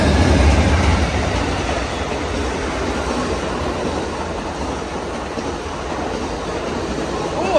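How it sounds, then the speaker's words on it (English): Amtrak Coast Starlight train number 11, southbound to Los Angeles behind a P42 Genesis locomotive, passing Oakland Coliseum station as a steady loud rumble and rush of rolling cars, close by and running the whole time with no talk. "here comes Amtrak train number 11, the Coast Starlight"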